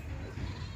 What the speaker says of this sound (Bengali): আর একদিকে ছাগল ডাকে